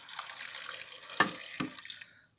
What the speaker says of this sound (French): Je mets un peu d'eau.